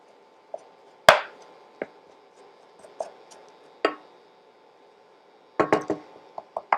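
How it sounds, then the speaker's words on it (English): A spatula chops and breaks up vegan burger mixture in a pan that isn't non-stick, giving scattered light taps and knocks with one sharp hit early on and a quick cluster of taps near the end, close by and alone. "So I'm just kind of chopping it up"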